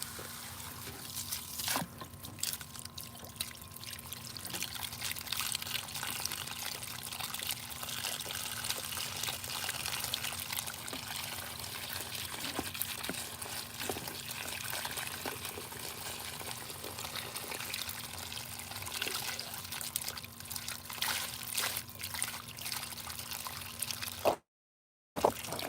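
Water runs steadily from a hose with a continuous, moderately loud splashing and trickling that holds throughout. A brief silence comes just before the end.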